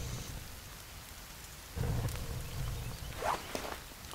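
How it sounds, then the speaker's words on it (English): Rain pours in the woods of The Forest survival game, joined by a deep thunder rumble partway through and faint footsteps, a continuous steady storm with no talking. "so rain is not very good with fires"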